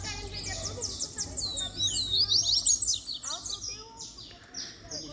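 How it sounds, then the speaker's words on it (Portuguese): A coleiro, the double-collared seedeater songbird, sings close by at a backyard gathering, rapid bright chirps and whistled trills running continuously with a faint low hum beneath. "Aqui os amigos se divertem, colocando esse passarinho pra cantar."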